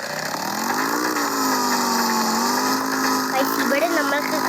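A car engine in the Crime Mafia video game drones with a steady, continuous hum that holds at an even level throughout.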